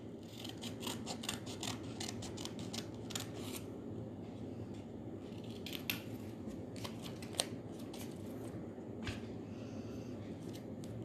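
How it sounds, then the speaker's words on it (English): Scissors snip a paper strip for a paper chick craft: a steady run of soft, close cuts and crisp clicks over quiet rustling, with no talking. "Then we cut one strip also."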